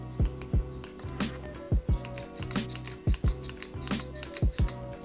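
A black metal ballpoint pen with an integrated clip is clicked repeatedly, giving crisp, close, sharp metallic clicks in irregular pairs against a faint background.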